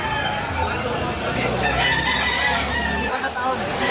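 Rooster crowing amid a busy gamecock market held behind a shopping mall in Lipa City, Batangas, Philippines, heard among constant crowd chatter and steady background noise.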